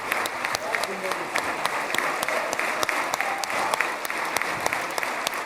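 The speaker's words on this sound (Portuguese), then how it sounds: "Ao subir à tribuna, Trump foi recebido de pé, sob aplausos intensos dos parlamentares israelenses" Israeli parliament members applaud Trump in a standing ovation, a continuous, dense patter of many hands clapping at steady intensity, with a voice speaking over the applause.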